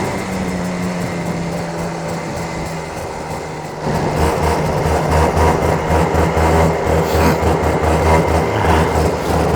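A racing car engine warming up: a loud, steady idle hum that shifts after a few seconds into a rougher, fuller and slightly louder drone, running alone without voices.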